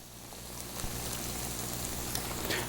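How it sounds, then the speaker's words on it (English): Olive oil sizzles in an already hot pan, a steady, close crackling hiss that holds evenly throughout. "So we're going to add a little olive oil to our already hot pan."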